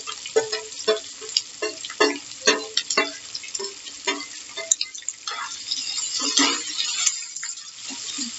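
Onions tossed into a hot pan with curry leaves and green chili, sizzling steadily while a spoon clinks and scrapes in repeated bursts, close and fairly loud.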